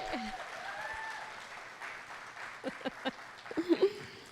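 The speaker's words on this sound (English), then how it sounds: "let's give her a round of applause" Audience applause at a fundraiser breakfast, moderate and spread out across the room with a few louder claps near the end.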